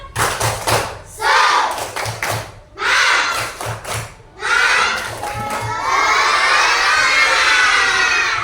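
A class of children claps and stamps in a quick rhythmic pattern during a school lesson, shouting bursts of a spirit chant in unison between the claps, loud and close.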